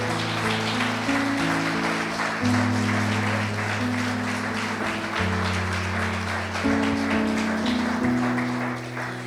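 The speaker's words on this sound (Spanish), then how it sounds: "Bríndele fuertes palmas al Señor." Church congregation clapping loudly and steadily for several seconds over sustained organ or keyboard chords, a dense wash of hands filling the room without voices.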